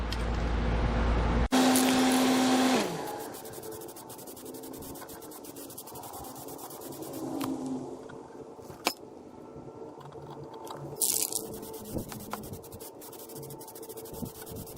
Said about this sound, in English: I'm going to spray it with some copper spray gasket.